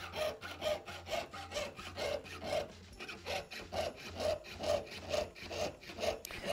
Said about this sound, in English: if you haven't sawn metal before and it's not going as smoothly as this for you the first time